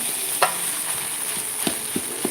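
Chicken kebuli fried rice being stirred in a pan, with a few soft scraping and tapping strokes of the utensil spaced out over a faint, steady frying hiss.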